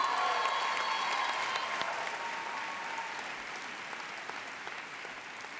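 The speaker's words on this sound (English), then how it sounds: "if you can all give the hand of applause to Saairah Farooq." Sustained applause from a talk audience, dense and steady, gradually thinning toward the end with no talking over it.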